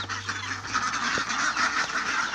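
A noisy chorus of ducks and chickens quacking and clucking over one another, dense and constant, close by with a brief low hum at the start.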